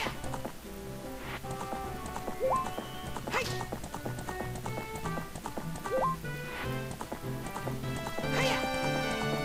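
Rhythmic clip-clop of a horse galloping in The Legend of Zelda: Ocarina of Time, steady hoofbeats under bright game music with occasional whinnies.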